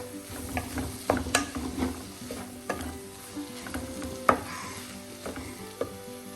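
Egg vegetable rice is stirred in a pot while pepper powder is mixed in, giving a constant soft sizzle with repeated scraping and clinking spoon strokes close by, and no voices.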